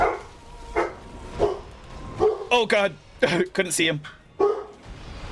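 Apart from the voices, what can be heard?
dog barking in the background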